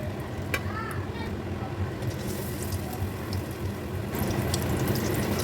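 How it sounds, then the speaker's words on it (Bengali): Prawn pakora pieces frying in shallow hot oil, a steady close sizzle and bubbling with a louder burst of crackle near the end as more batter hits the oil. "এবার আমি এগুলোকে ভেজে নেব।"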